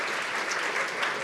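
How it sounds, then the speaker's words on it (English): A conference audience claps steadily for the morning speakers, a dense, even wash of many hands at moderate distance, without voices over it. "Let's have a round of applause for all of our morning speakers"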